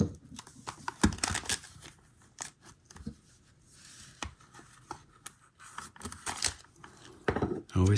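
Scissors or a blade snip and tear through the packaging of a diecast model car, in irregular bursts of cutting, crinkling and rustling that are close and fairly loud, with brief pauses between strokes.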